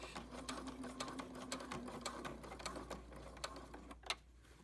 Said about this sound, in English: so you sew, you backstitch